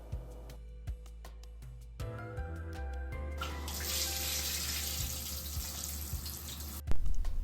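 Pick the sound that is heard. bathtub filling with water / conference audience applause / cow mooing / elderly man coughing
bathtub filling with water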